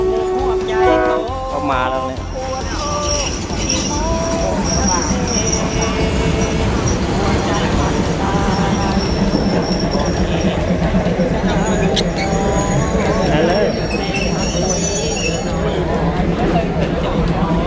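A train arrives at a busy platform, rumbling and clattering, with crowd chatter of students and station noise throughout, and a brief high squeal of wheels.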